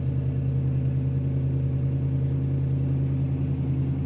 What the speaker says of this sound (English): Signature of a Mopar is that deep rumble.